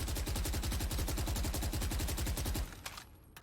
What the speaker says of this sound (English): Let me shoot the Phantom.